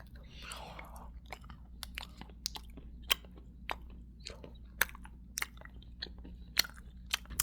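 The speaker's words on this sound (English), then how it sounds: "let's open it up and start chewing it" Gum being chewed close to the ear in a quiet room, a steady run of small wet clicks and smacks spread through the stretch, alone with no speech.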